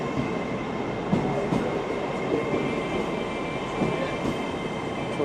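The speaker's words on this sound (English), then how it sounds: "This is our next train." A train runs at a station on the Castleford to York line, giving a steady rumble with faint clicking, a little squeal and a high hum, heard at moderate loudness from close by without any talking.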